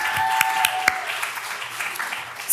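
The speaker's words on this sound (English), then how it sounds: "So that deserves another big round of applause." Applause from a gathered audience of women at a community event, a brief burst of clapping with a few sharp individual claps standing out, then thinning toward the end.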